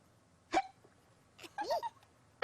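Hiccups from a cartoon character, sounding as several short, abrupt voiced hiccup gulps at close range, one alone early and then a quick cluster of two or three, with nothing else between them.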